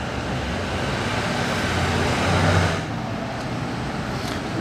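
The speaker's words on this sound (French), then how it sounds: "On a les deux voitures de Charles Leclerc qui arrivent en convoi, c'est incroyable." A broad roar of Ferrari sports car engines swells past in a convoy in Monaco, peaking midway then easing off, steady road noise with no voices.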